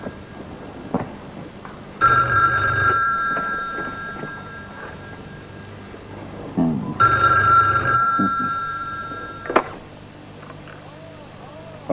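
A telephone rings in two clear bursts, each about two seconds long with a pause between them, heard indoors beneath speech.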